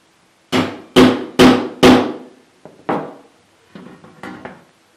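Stainless steel broiler feeder parts are tapped into place: four sharp, ringing metallic knocks in quick succession, then a few softer, scattered taps.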